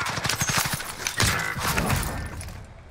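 Rapid bursts of automatic gunfire crackle in Call of Duty Warzone on Rebirth Island, a quick run of close shots followed by heavier blasts and clattering impacts that fade out.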